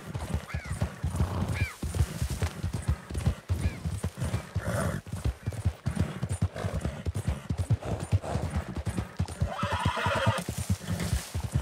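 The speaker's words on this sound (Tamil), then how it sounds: "அரேபியன் குதிரை அரேபியன் குதிரை தாண்டா" An Arabian horse in the video game Red Dead Redemption 2 gallops with a fast, continuous clatter of hoofbeats, while loud neighs and whinnies break in repeatedly over the rhythm.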